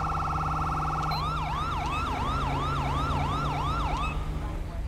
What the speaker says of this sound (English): Alright, so those are your sirens.